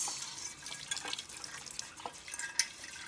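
Running water splashes and drips over a pan at a kitchen sink while it is rinsed after scrubbing with a netted dishcloth, with scattered close taps and drips and a sharp clink near the end.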